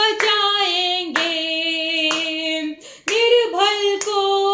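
Steady rhythmic hand clapping from a church congregation during a Hindi worship song, roughly one clap per second, sitting beneath loud, continuous sung voices.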